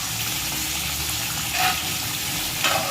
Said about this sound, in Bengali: এই মুহূর্তে মাছগুলো ছেড়ে দেওয়া হয়েছে আলুতে, এবং মাছ দিয়ে আলু দিয়ে রান্না